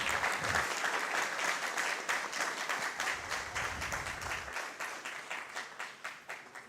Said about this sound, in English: Guys, let's give them another round of applause